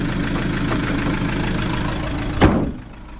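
An Iveco ex-police van's engine idling at close range, a low continuous rumble that cuts off abruptly near the end.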